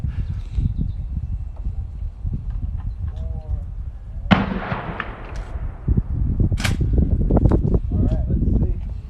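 A shotgun fires at an outdoor clay shooting range, one sharp loud blast with a decaying tail followed by a fainter pop, over wind noise and people talking.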